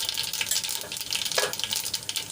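Cumin seeds hit hot oil in a kadai where mustard seeds have already popped, giving a close, steady crackling sizzle with a brief brighter burst partway through, no voices.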